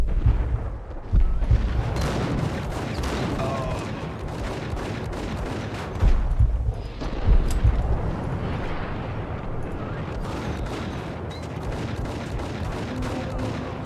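Repeated gunfire and heavy booming shots in the Max Payne video game, a dense loud barrage with a few stronger bursts over a constant rumbling background, no talking.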